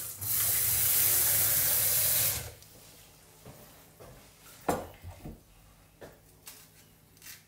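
Tap water gushes loudly into a sink for about two seconds to soak cuttlefish, then stops, followed by scattered clinks and handling knocks of kitchenware.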